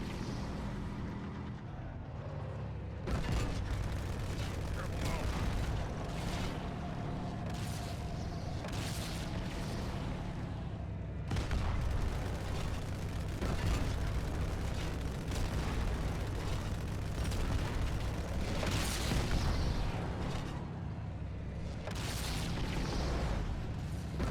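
Explosions and weapons fire against Wraith tanks in Halo 2 Anniversary, a continuous barrage of booming blasts and bursts layered over a low rumbling bed, quiet in level overall with recurring heavier impacts.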